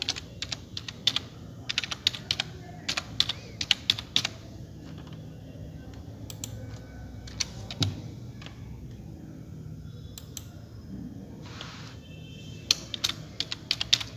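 Fingers type on a computer keyboard in quick, irregular bursts of light clicks and taps, close but fairly quiet, with brief pauses in between; no one speaks.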